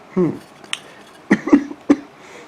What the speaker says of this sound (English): you hear me coughing